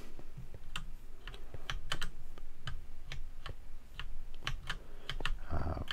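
Typing on a heavier 60% computer keyboard with an extra row of directional keys and a dedicated function row produces a steady run of crisp, close key clicks at an irregular pace, ending in a louder clatter.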